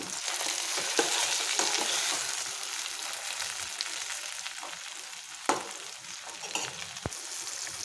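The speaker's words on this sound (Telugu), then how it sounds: "టమాటా పీసెస్ని ఒకసారి కలిపేసుకున్నాం ఫ్రై అవ్వాలి మొత్తం" Tomato and onion pieces frying in a pan for wheat rava upma, giving a steady, close sizzle throughout, broken by a few sharp clinks and scrapes of stirring.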